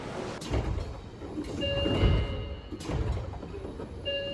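Doors slide shut on a Seibu Ikebukuro Line local train as it departs Ikebukuro station, with a thud of closing panels, a brief warning tone and the rumble of the carriage getting underway, fairly loud with no talk.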